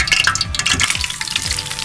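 Green cardamom crackles in hot oil for halwa, a close, busy sizzle packed with sharp popping spatters and a little stirring, with no voices.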